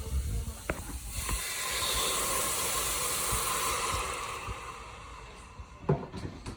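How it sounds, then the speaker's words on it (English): White wine poured into a pan of sautéed peppers and onions erupts into a loud, steady hiss and sizzle that builds after a second and holds for several seconds, with a few clinks of a utensil near the start and end. "So next step is to add the white wine."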